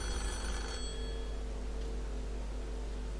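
Telephone bell ringing in the Deal or No Deal game on Nintendo Wii, a steady electronic ring over constant low hum, heard alone.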